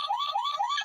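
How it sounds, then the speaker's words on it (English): A broken Ford Mustang GT glider toy plays an electronic car alarm through its small speaker, a loud, rapidly warbling tone that loops continuously and plays alone. "Car alarm."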